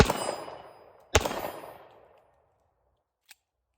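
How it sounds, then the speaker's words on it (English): Two sharp gunshots from a Springfield Armory 1911-A1 Mil-Spec .45 ACP pistol, each ringing out with a long decaying echo, followed by a faint metallic clink, loud and outdoors, no talking. "We'll shoot some more, see how it does."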